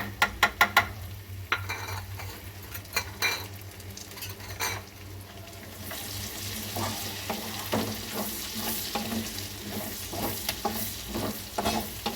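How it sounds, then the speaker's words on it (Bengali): Garlic sizzles steadily in melted butter in a pan while a utensil scrapes and stirs it, with sharp metallic clinks against the cookware over a constant frying hiss. "রসুনগুলো একটু ভাজা হোক, তারপরে আমি অন্য মশলাগুলো দিচ্ছি।"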